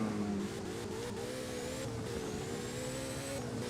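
Car in the racing game Driving Empire taking corners, with a steady engine drone shifting pitch and a thin tire whine rising briefly, moderately quiet throughout with no talk.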